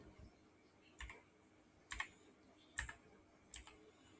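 A computer keyboard is typed on while a captcha is entered into an online form, giving four or five separate, quiet key clicks spaced roughly a second apart in a hushed room.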